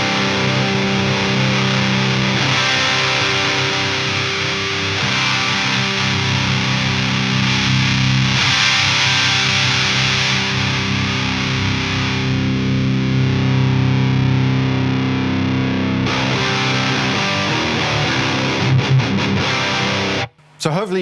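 A high-gain electric guitar played through an amplifier with humbucker pickups and the master volume set low, sustaining distorted chords whose tone shifts in stages as the EQ is adjusted, loud and steady for about twenty seconds.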